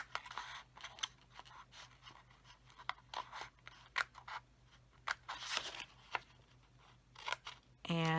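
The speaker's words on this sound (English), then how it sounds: "I'm going to cut away the one at the bottom on this side as well." Scissors snipping a small rectangle out of designer series paper for a gift bag, a run of quick crisp cuts and crunches close by, with a brief tonal beep at the end.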